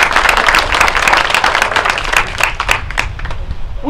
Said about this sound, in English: Give God a hand clap of praise for it.